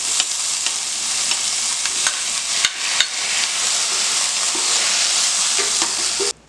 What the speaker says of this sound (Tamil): ஆனியன் நல்லா வதக்கிக்கோங்க. இதில் 2 ஸ்பூன் ஜிஞ்சர் கார்லிக் பேஸ்ட்.